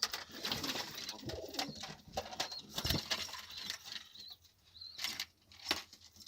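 Several Bango pigeons coo and shuffle inside a loft, soft repeated cooing with occasional wing flaps and small knocks, fairly close and continuous.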